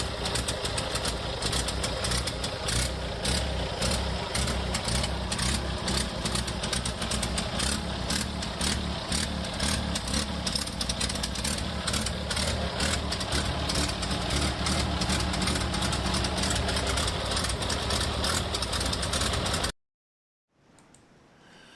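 A farm vehicle engine idles with an exhaust leak, giving a loud, close, steady rough chuffing and ticking rhythm for about twenty seconds before cutting off abruptly into quiet.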